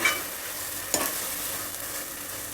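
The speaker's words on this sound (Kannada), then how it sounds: "ಸಾಕಷ್ಟು ಫ್ರೈ ಆಗಿದೆ ಕಡಿಮೆ ಫ್ಲೇಮಲ್ಲೇ ಇಟ್ಕೊಂಡಿದ್ದೀನಿ" Spinach paste gently frying on a low flame for palak pulav, a steady soft sizzle with light stirring scrapes and one brief louder clink near the start, no talking.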